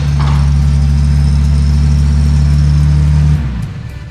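A car engine, part of a project car being moved in for the night, holds a loud steady drone close by for over three seconds, then drops off and settles into a lower rumble.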